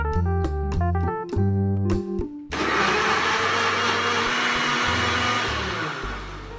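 Plucked music notes play briefly, then a Philips juicer mixer grinder switches on with a loud, steady motor whir and grinding roar that runs continuously to the end.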